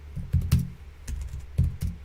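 Typing on a computer keyboard, a brief run of close, irregular key clicks with a few louder strikes, heard alone without any talking.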